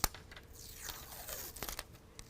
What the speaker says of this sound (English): We're going to go ahead and peel that sticker off